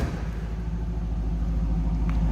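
A 2002 Pontiac Firebird Trans Am WS6 convertible with a 5.7 liter LS1 V8 idles from behind the car, a steady deep throaty rumble that stays close and even throughout.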